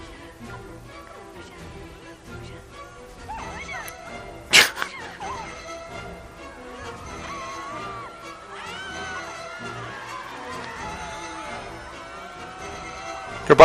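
A dog barks and whimpers with yips over a busy background of other sounds, with a sharp loud burst partway through and a short outburst at the end.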